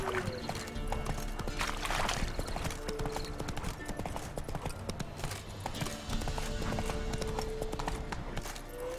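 Horse hooves gallop in a video game during a live stream, a fast, steady clip-clop with an occasional neigh, moderately loud with faint voices underneath.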